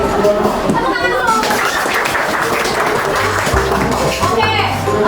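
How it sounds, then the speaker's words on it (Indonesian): A classroom of children clapping after a student presentation, a loud, busy patter of many hands with children's voices chattering and calling out throughout. "Tepuk tangan dulu."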